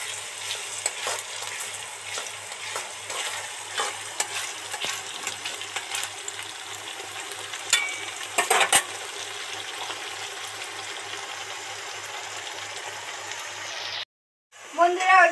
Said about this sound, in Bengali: ওদিকে তো মশলাটা ভাজা হতে থাকছে